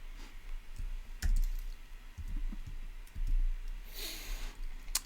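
Irregular clicks and taps come from a computer keyboard at a desk, sparse and close, with a soft rustle and brief whoosh near the end over a low steady hum.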